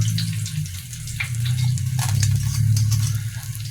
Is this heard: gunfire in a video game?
no